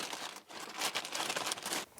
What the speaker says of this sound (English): I'll use a plastic bag just to make sure it doesn't accidentally connect itself again.